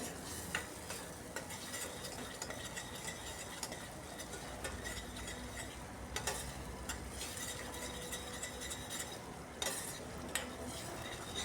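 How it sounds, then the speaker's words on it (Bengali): A spoon stirs cauliflower masala with poppy seed and cashew paste in a pan over low heat, a close, continuous scraping and soft sizzling with occasional sharper clinks against the metal, no voices. "বারবার নাড়াতে হবে যেহেতু এর মধ্যে কাজু বাদাম দিয়েছি নিচে লেগে যাওয়ার সম্ভাবনা থাকবে"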